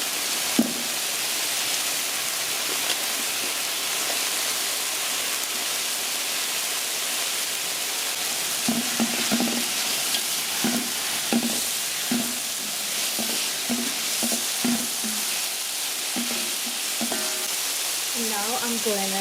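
Tomatoes, aromatics and saltfish fry in a pan with a steady, close sizzle, broken in the second half by a run of soft clinks and scrapes as the mixture is stirred.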